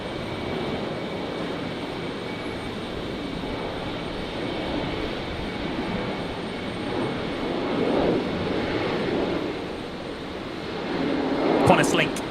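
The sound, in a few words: QantasLink Embraer jet taking off on runway 19 left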